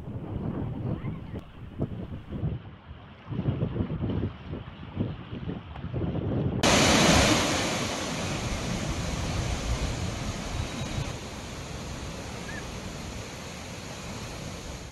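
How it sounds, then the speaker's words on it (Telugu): Floodwater pours from the 11 raised gates of the Pulichintala dam, a steady broadband roar that grows louder partway through and carries on without a break, with wind noise mixed in. "ప్రాజెక్టు 11 గేట్లను 3 మీటర్ల మేర ఎత్తి దిగువకు నీటిని విడుదల చేస్తున్నారు అధికారులు."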